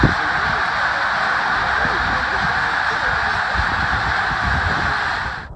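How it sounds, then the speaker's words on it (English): A greater white-fronted goose honks within a dense flock of snow geese, a loud continuous wall of overlapping honking that fades at the very end. "Greater white-fronted goose"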